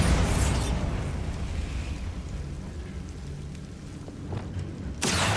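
A Bombarda spell explosion in the Hogwarts Legacy video game: a loud, broad rumbling roar that fades slowly, then a sharp new blast bursts in near the end.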